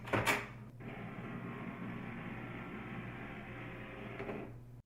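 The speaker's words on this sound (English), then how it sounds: "Wait about 10 minutes for your printer to stop making noises before you proceed." An HP DeskJet printer runs through a reset, giving a steady mechanical hum and whir that holds evenly for several seconds after a brief clatter at the start, then stops.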